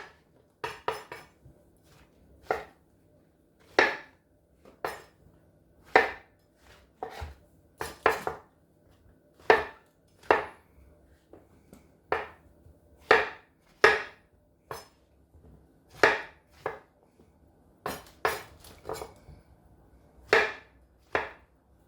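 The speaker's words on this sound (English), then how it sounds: "I'm just going to slice these." Knife slicing mushrooms on a cutting board: crisp, close, separate taps of the blade striking the board, about twenty cuts in an uneven rhythm with short pauses, heard alone in a quiet room.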